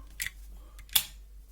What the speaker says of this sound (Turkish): her çakışta yanıyor yani baksanıza